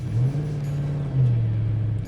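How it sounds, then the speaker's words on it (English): A 1993 Ford Mustang Cobra V8 idles through its factory exhaust, giving a steady, deep, throaty rumble close by with one slight swell midway, and no voices over it. "These things had a good throaty sound from the factory, and they weren't too obnoxious just at idle, but you can still hear that engine"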